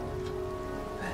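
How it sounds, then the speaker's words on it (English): Steady rain falling in a video game, a constant even patter with no breaks, moderately loud and heard alone without talk. "It's raining."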